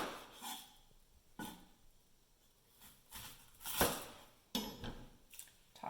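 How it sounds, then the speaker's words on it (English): Kitchen knife chopping through a yellow onion on a cutting board, a few sharp separate knocks spaced apart, close and fairly quiet with no talking. "I'm going to cut off both ends of this onion"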